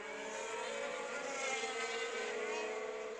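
F1 car engine heard onboard in the F1 2016 racing game, a steady loud buzzing whine with dense harmonics that holds level throughout, no gaps or shifts in pitch.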